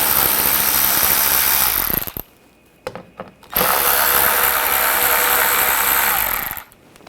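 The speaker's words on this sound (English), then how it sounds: "Take these screws out, use a 8mm socket." A power tool, likely a power ratchet with an 8mm socket, removes screws from the front bumper of a 2007-2013 BMW X5. It whirs loudly and continuously in two long runs, separated by a short pause with a few clicks.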